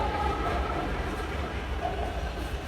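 Steady rumble of a moving passenger train heard from on board, a continuous close rolling drone with a faint rhythmic rattle throughout and no clear voices.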